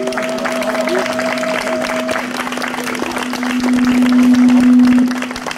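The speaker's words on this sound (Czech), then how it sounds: "Musíte se tady ukázat všetkým a pořádně, pořádně to chce zatleskat." Audience applause for the Tupeské parádnice folk performers at a live show, a dense steady wash of clapping that swells louder toward the end, with a sustained tone and some voices mixed in.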